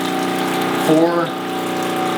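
A JOOLCA Hot Tap NOMAD water heater running as water flows, a steady pump-like hum with a brief brighter surge in the middle while a man counts aloud.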